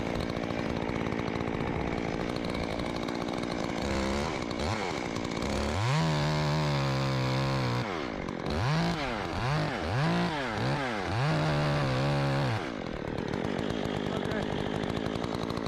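A chainsaw cuts a tree limb while the operator works out on a limb in a tree, the engine revving up and down in repeated bursts, loud and close throughout.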